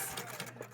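A sewing machine runs a 5/8 seam along pinned fabric on a top, a short, close, continuous whirring buzz with no voices.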